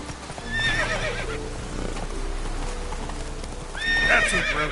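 Roach the horse galloping in The Witcher 3 on PS4: steady rapid hoofbeats over a rumbling backdrop, with a loud whinnying neigh near the start and another near the end, close and prominent.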